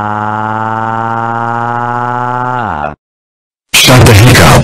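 A cartoon police car siren wails loud and steady as a sustained rising-falling tone, then cuts off abruptly, followed by a brief silence and a burst of noisy sound.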